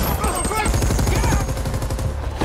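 Rebel soldiers fire indiscriminately from a building in the film Outside The Wire, a loud, rapid run of automatic gunshots under a narrating voice.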